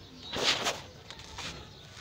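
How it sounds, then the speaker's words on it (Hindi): Outdoors in the Rajasthan morning, small birds call in a few short, fairly close bursts over a soft background hiss, with no speech. "सुबह सुबह चिड़िया की चीची"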